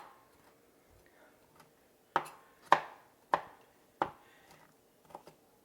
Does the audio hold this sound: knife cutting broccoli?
yes